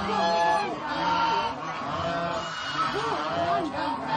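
A flock of ducks or geese at an ashram in Hetauda honks continuously, the calls close, loud and overlapping, with some faint human voices mixed underneath.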